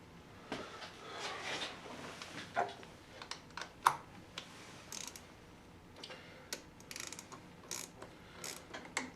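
A wrench snugs a spark plug on a 2006 Hummer H3, producing quiet, irregular ratcheting clicks and small metallic taps spread across several seconds, close and fairly faint with no talking.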